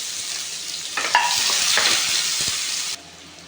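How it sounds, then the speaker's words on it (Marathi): Chopped onion hits hot oil with cumin seeds in a pan, a steady bright sizzle that swells louder as it goes in, with a few stirring clicks, then drops back to a softer hiss. "हा कांदा आपण गुलाबी रंगावरती परतून घेऊ"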